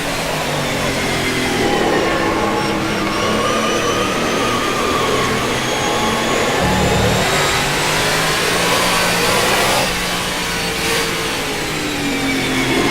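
Heavy NASCAR stock car engine in rFactor 2 at Watkins Glen, damaged car, droning loudly and steadily throughout with rising and falling revs through gear changes, no talk.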